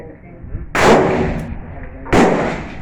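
Two loud, sharp blasts from an EAA Windicator 12-gauge shotgun ring out about a second and a half apart, each a sudden crack trailing off into a short decaying echo.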